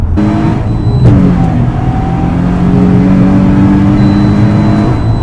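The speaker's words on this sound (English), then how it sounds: "I just love flooring it on the straight." A Nissan Skyline's engine pulls hard at full throttle down a straight, loud and close, with a rising whine and a brief sharp transient before a sustained climbing drone.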